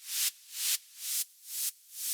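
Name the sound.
white noise sidechained to the kick in Ableton Live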